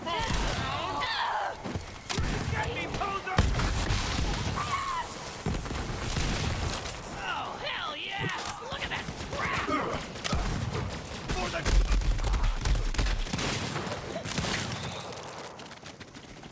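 Rapid bursts of Borderlands 3 gunfire and thuds crack repeatedly, loud and close, mixed with impacts and a voice talking over the action.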